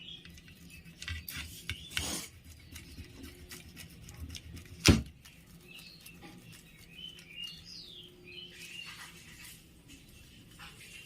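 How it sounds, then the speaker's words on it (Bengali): Boiled eggs rubbed across a grater in a home kitchen, soft intermittent scraping strokes, quiet and close, with one sharper knock partway through. "এইভাবে ডিমগুলো সব গ্রেট করে নিতে হবে।"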